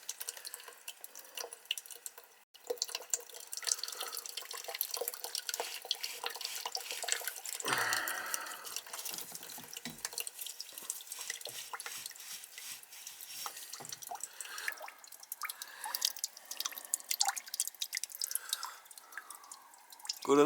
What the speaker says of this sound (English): That looks like that valve's leaking by or something's going on with it.